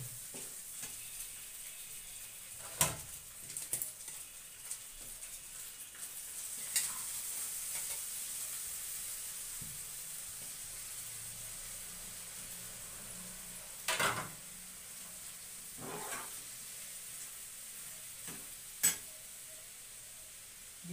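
Chicken chowmein stir-fries in a pan with a soft, continuous sizzle. A few sharp clinks of utensil against pan break in now and then, and nobody speaks.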